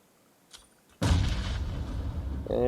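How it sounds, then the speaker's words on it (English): A stun grenade goes off in an online shooter match, a sudden loud burst after a near-silent moment, its blast ringing and rumbling on for over a second. "And I believe that was a stun grenade."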